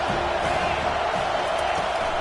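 Dense roar of a football stadium crowd during an opening drive on 3rd and 10 in a Miami vs Stanford playoff game, a continuous, loud wash of noise with no distinct pauses.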